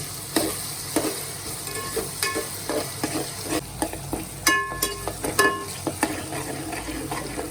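Onion and garlic sizzle in a hot pan while being stirred, a continuous frying hiss punctuated by frequent metallic scrapes and clinks of the spoon against the vessel, close and fairly loud with no talk.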